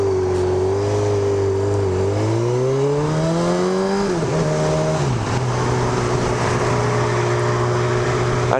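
A Honda CB1000R motorcycle engine accelerates on the road, loud and close, its drone rising in pitch through the gears with short drops at each shift, steady wind noise underneath and no talk.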